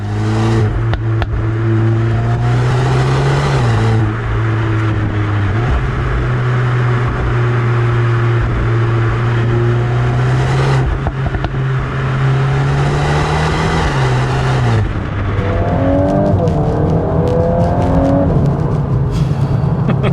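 A VW MK8 Golf R launches hard from a standstill, its engine note climbing steeply through the gears with brief dips at each shift, loud and close inside the cabin on a damp road.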